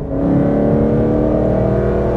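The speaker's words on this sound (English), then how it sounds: "So we can pass this guy here, we're gonna downshift." A manual-transmission car downshifts and revs up to pass another vehicle, a steady, loud engine drone with rising harmonics heard from inside the cabin, continuous for a couple of seconds with no talking.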